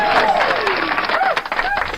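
Crowd at a Friday night live music show applauding, a loud dense wash of clapping with whoops and cheers mixed in.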